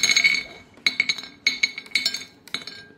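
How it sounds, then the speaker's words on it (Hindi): Almonds dropped into a glass container in several quick bursts, each a cluster of bright, close clinks and rattles with short pauses between, no talk. "ये मैं बादाम डालने लगी हूँ"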